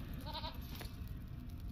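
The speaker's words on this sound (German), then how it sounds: "nehme ich meine Ziege." A goat mount in the video game Lord of the Rings Online gives one short, faint bleat over a steady background hum.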